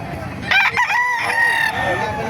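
Chickens and a rooster at a poultry market, a loud nearby crow rising and falling over clucking and crowded fowl noise.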